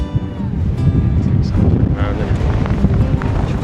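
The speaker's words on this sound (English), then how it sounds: "It's really windy here today." Strong wind buffets the microphone in a continuous low rumbling roar at a high-altitude Argentine desert above 4000 meters, near an abandoned train, with faint talking partly beneath it.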